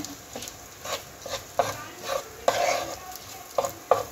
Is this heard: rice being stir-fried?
yes